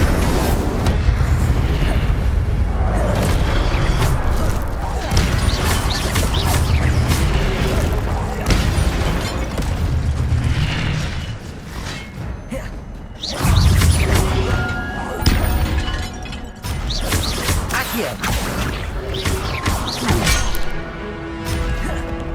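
Repeated Incendio fire spells in Hogwarts Legacy during the Isidora Morganach chapter give long stretches of loud crashing, booming and whacking effects, with a heavy surge of impacts midway and no voices.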